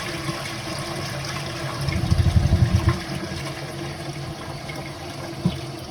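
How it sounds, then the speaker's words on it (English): A blocked toilet being flushed, with a low, gurgling rush of water swelling for about a second amid steady background noise, then draining off quietly. "I'm going to flush it, and we're going to keep the camera there."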